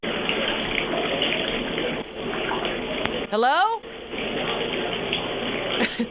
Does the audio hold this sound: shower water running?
yes